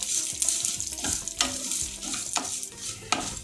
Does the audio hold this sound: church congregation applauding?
no